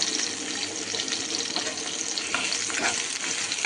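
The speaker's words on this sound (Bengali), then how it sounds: "পেঁয়াজটা আমার ভাজা চলছে" Onion frying in hot oil over a medium flame, a steady sizzle and crackle, a continuous frying hiss with occasional stirring.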